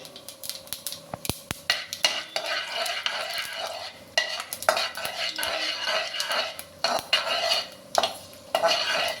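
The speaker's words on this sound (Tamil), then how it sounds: "நாங்கள் வந்து சோம்பை கொஞ்சம் போட்டு நல்லா ஃப்ரை பண்ணணும்" Fennel seeds fry in hot oil in a pan for a prawn gravy, hotel style, with repeated scraping and stirring strokes and clinks of a utensil against the pan, loud and close, with a steady sizzle underneath and no talking.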